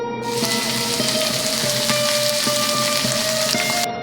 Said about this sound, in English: Take small portion of the mixture and drop them into hot oil. Listen to the sizzling sound.